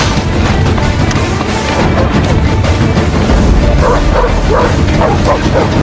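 A tracking dog barks and yips amid loud booming action sound in a Rambo film scene with soldiers in Burma, dense and continuous, the barks partly buried in the mix.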